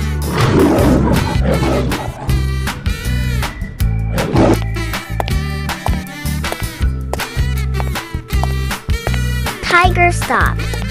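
A cartoon tiger roars loudly near the start, then bouncy children's music with rhythmic beats carries on to the end.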